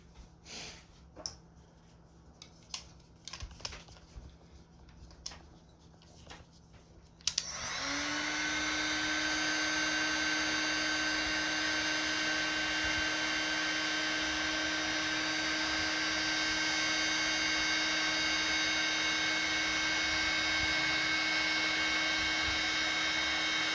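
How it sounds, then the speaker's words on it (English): Heat gun blowing hot air during a motor replacement on a Christmas village piece: after some faint handling clicks, a steady, loud whooshing whine with a high electric tone switches on abruptly and holds constant. "And then you can use a lighter or your heat gun."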